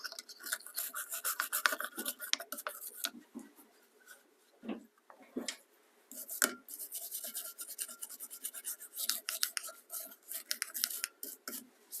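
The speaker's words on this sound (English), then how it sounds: "Dirt on the end of this socket. Get that off." Dirt being scraped off the end of a tube socket on a 1952 Admiral TV/AM radio set, heard as close, dry rasping and scratching strokes in uneven bursts with brief pauses.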